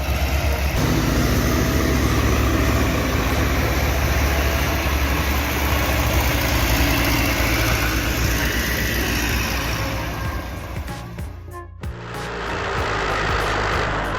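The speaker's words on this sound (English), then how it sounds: "The engine roars like a wild beast deep in the forest." A heavy Ursus C4011 tractor engine roars steadily and loudly while stuck in mud, a dense continuous drone that dips briefly near the end before surging again.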